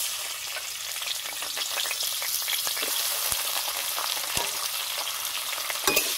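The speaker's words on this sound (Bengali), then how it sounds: "তেল গরম হয়ে গেল, এখন তেলে আলু ছেড়ে দেব।" Potatoes fried in hot oil in a wok, cooked for a Spanish potato omelette, give a steady, close, busy sizzle with small crackles and pops throughout and no talking.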